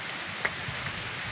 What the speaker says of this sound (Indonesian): Hujan, guys. Kita harus lari-larian.